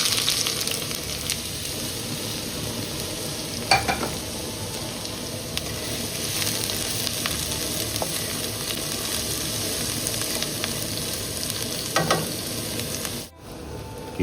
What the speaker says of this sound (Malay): Okay, kita tumis.